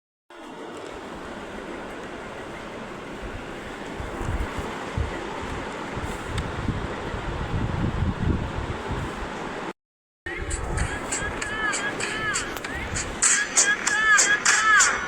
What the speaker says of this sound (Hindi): कितनी हवा चली है,